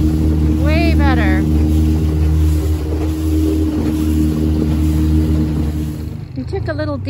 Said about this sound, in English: We took a little dinghy ride down to the Kitimat village.